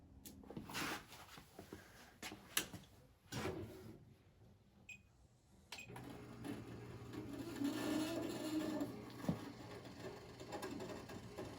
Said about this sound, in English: That's the auger, moving the chips to the fire pot.